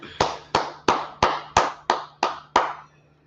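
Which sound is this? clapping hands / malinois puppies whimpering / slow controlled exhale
clapping hands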